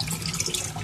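Water gravity-feeding from new plumbing with a valve into an aquaponics sump, a continuous close rushing splash that stays steady throughout.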